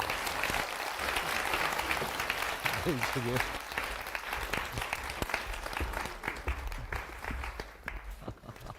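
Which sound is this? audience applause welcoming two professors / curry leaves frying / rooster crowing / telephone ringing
audience applause welcoming two professors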